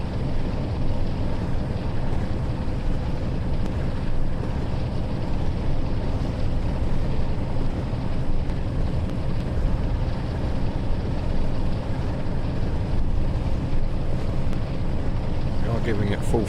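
A diesel locomotive engine roars at full throttle in a train simulator game, a dense steady low rumble with constant broad noise that never lets up.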